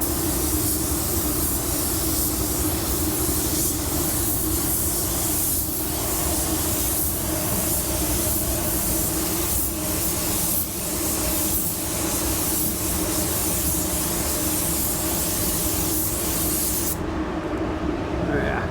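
A spray gun lays down base coverage coats of Ultra 9K paint in wintry conditions, a continuous close, loud hiss pulsing with each pass before cutting off near the end.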